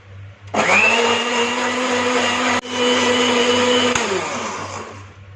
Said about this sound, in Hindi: इसको हाई स्पीड पे ब्लेंड कर लेंगे।